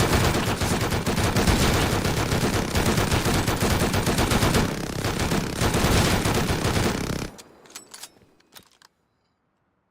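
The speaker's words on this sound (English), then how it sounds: "And there's a lot of people shooting it." Dense, continuous gunfire from many players unloading on a helicopter in a zombie video game, loud rapid bursts overlapping for several seconds before cutting off abruptly into near silence.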